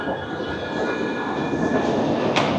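A steady rumble of a train in the underground Torino Porta Susa station in Turin, with a continuous broadband roar and faint high tonal whine, no voices.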